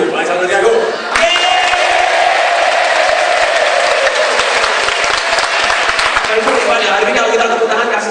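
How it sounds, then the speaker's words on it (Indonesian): A large seminar crowd breaks into sustained, loud applause after a brief lull, with whoops and scattered shouts mixed into the clapping and voices carrying over it throughout. "Coba kasih tepuk tangan lagi Bapak Ibu."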